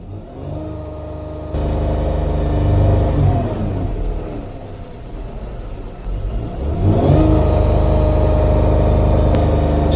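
A Dodge Grand Caravan engine with a defective thermostat runs close by, idling, then revving up, dropping back, and revving again with a rising whine and steady low rumble.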